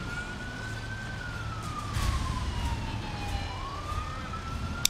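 An ambulance siren in GTA V wails in a slow rising and falling tone, fairly faint and distant, over a low background rumble.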